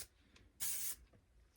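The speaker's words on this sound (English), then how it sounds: "We're going to take my navy hair skipper flexible hold hairspray, which this stuff's a little more than flexible. It holds pretty well. And spray everything." Flexible-hold hairspray from an aerosol can sprayed onto pinned-up hair in one steady hiss of about a third of a second, close and loud against a quiet room.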